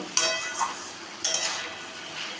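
A spoon stirs chicken and cauliflower curry with garam masala in a pan, making a few close, scraping strokes with faint metallic clinks and a soft sizzle between them.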